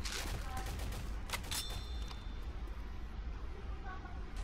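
Gunfire crackles in the zombie shooter Left 4 Dead 2 on the Facility 13 map, with a cluster of quick shots amid busy game noise and players talking over it.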